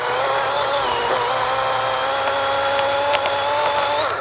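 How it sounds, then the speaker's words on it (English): A DeWalt 20V MAX XR cordless chainsaw fitted with an Oregon chain cuts through a rotten tree, giving a loud, steady, high-pitched motor whine with brief bursts of chain rasp through the wood. "You can actually see that it cuts pretty rapidly with this Oregon chain."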